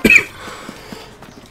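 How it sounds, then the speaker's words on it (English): A person with a bad cough coughs sharply once at the start, then a brief quieter stretch, and a second cough bursts out at the very end, close and loud. "So I've had a bad cough the past couple days."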